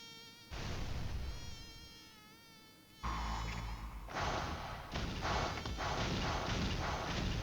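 Mosquito buzzing in a sustained high whine that holds steady, then cuts out and returns in louder, denser bursts, close to the ear, with no talking.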